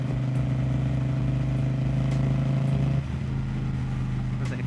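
A motorcycle engine hums steadily on a ride, then its tone drops and shifts as the rider changes up a gear and the bike carries on. The engine is loud, close and unbroken throughout, with no speech.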